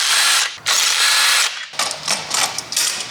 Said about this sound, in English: So we're gonna buzz the clutch off now, 12mm all around on all the bolts